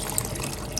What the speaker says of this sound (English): we will add our dried sorghum leaves and lots of water to cover the surface